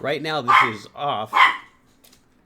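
Dogs bark near a house during a well water pump repair, sharp barks mixed in with someone talking close by.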